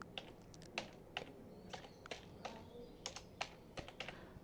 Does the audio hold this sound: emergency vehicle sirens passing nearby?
no